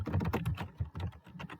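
Quick, uneven clatter of keys on a computer keyboard, close and fairly quiet, with no voices over the tapping.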